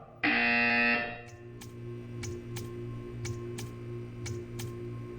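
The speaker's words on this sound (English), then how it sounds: "You will hear a buzzer." A loud, steady electronic buzzer from the video game Portal 2 blares for about a second, then stops, leaving a faint room hum with a few light ticking clicks.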